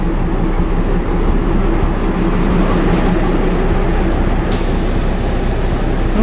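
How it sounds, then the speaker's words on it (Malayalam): A narrow gauge passenger train on two-foot-wide track, hauled by ZDM 526 locomotive, gives a loud continuous rumble with a steady low mechanical drone and no break throughout. "ഈ 2 അടി വീതിയുള്ള നാരോ ഗേജ് റെയിൽ, ഈ ZDM 526 വഹിക്കുന്ന ട്രെയിനിൽ ഒരു ട്രിപ്പ് പോവാണ്"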